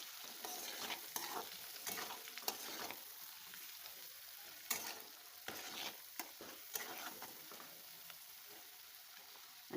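Chili powder and salt being stirred into sago (sabudana) khichdi in a pan, a steady faint frying hiss broken by scattered spoon scrapes and clicks, with no talking.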